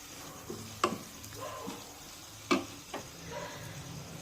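Turmeric, red chili, coriander powder, garam masala and asafoetida sizzle and fry softly in a pan for besan bhurji, with a few sharp clicks and taps of stirring standing out above the steady frying hiss.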